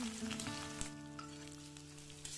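Chopped onion dropped into hot mustard oil already crackling with black cumin seeds, giving a steady close sizzle and frying hiss that swells briefly as the pieces hit the pan, with a faint steady tone beneath.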